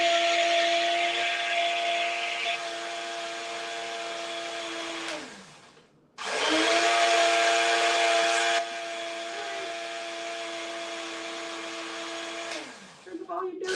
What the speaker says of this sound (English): It's midnight and I'm gonna use a blender.